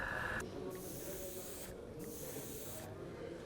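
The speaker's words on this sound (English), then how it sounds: "You can use any airbrush." An airbrush with a 0.2 millimeter nozzle sprays Alclad metallic paint, giving a soft, steady hiss close by that stops and restarts in short bursts.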